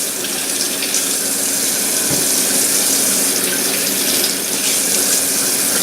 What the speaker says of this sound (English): time to give them a rinse